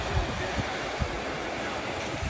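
Ocean surf washes onto Marconi Beach on Cape Cod, a steady broadband wash with soft low thumps of breaking waves and some wind rumble, no voices.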